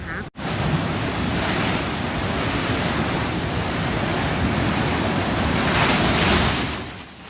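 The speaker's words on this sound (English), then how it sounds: "High surf warnings and advisories are in effect along the entire California coast" Loud, continuous roar of high ocean surf on the California coast, waves crashing and churning without pause, swelling slightly toward the end.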